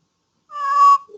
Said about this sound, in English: and a cat meowing.